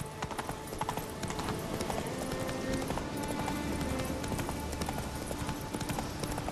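Geralt's horse Roach gallops in The Witcher 3, a steady, loud clip-clop of hooves that runs the whole stretch over a rumbling in-game soundscape.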